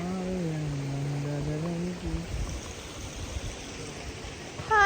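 A stream flows near a waterfall, heard as a soft, steady rushing wash. A brief tonal, voice-like hum sits over it at the start, and the water continues alone afterward.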